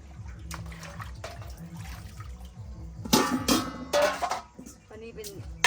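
Running tap water during late-night dish washing, with a steady background flow under overlapping talk, then louder splashing and clattering of dishes in bursts toward the end.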